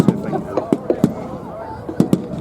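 Re-enactors fire from a firing line, a scatter of rifle shots cracking out in two uneven bursts, some distance off and fairly loud, with crowd chatter murmuring underneath.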